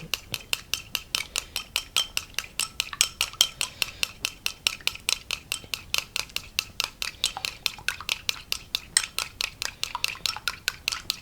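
Egg being beaten into chicken pieces in a bowl, a fast steady run of clinking utensil strikes against the bowl, close and sustained with no talk.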